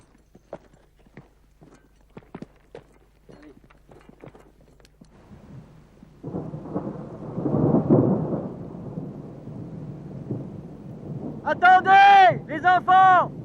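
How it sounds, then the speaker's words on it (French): Thunderstorm with rolling thunder, a broad loud rumble swelling in after quiet speech-like sounds and continuing for several seconds, then people talk loudly over it near the end. "C'est qu'un petit orage, ça va passer."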